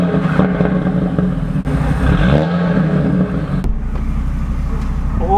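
Audi RS3 engine accelerating during a ride, a loud steady drone with a rising and falling pitch sweep mid-clip, close inside the car, with some talk over it.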